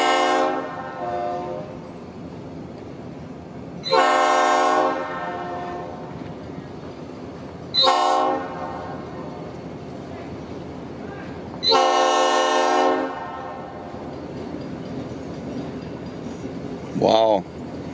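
An SD40-2 diesel locomotive hauls a freight train of coil cars past, its horn sounding in four loud blasts over a steady rumble of rolling cars.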